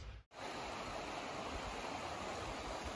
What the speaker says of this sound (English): we got a pretty good little creek underneath us there